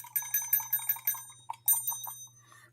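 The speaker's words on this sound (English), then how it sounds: "the bell goes off just like a timer when it's done" A wind-up time-lapse timer's small mechanical bell rings when done, a bright tinny rapid trill of strikes in quick clusters, then a few more scattered dings fading out, close and loud over faint background hum.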